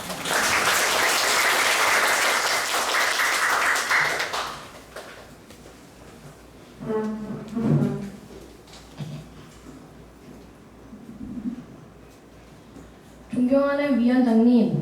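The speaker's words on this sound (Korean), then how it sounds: "박수 한번 칠까요?" Applause from a children's assembly session, dense clapping for about four seconds that stops abruptly, followed by quiet room sound, brief speech, and then someone speaking into a microphone.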